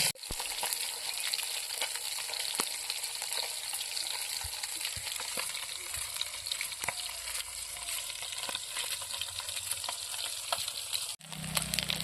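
Latha fish sizzling loudly in a frying pan, a constant crackling hiss with scattered pops, ending in a brief pause and a low rumble.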